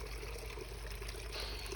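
Water trickles steadily in a garden water fountain holding plants, a soft continuous splashing and dribbling at low level, with no voices present.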